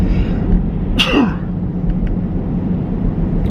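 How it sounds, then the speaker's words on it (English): A single sharp sneeze bursts out over a constant low rumble of road or engine noise, brief and close. "Sneeze again."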